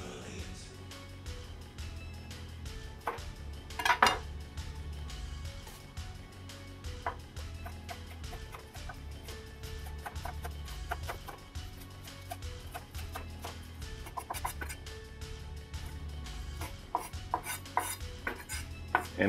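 Scallions being chopped on a cutting board for a chicken Alfredo sauce, a steady run of quick close knife taps with a few louder clatters, no talking.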